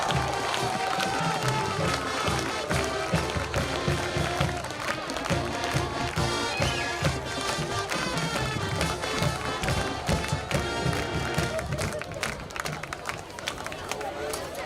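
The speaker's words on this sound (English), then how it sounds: "A big round of applause for our elementary dogs tonight." A crowd at a high school football game applauds and cheers in the stands as the team takes the field, steady clapping heard at a distance beneath a public-address announcer.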